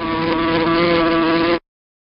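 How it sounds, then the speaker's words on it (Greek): A housefly buzzes loudly and close by in one steady, unbroken drone that cuts off sharply after about a second and a half, followed by silence. "Αυτό είναι είναι η μύγα."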